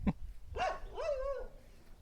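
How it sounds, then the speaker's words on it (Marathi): A dog on an organic mango farm gives a short sharp bark, then two quick whining yelps, fairly close but quiet in an otherwise calm outdoor setting. "कोणतं कुत्रं भोगतंय रे"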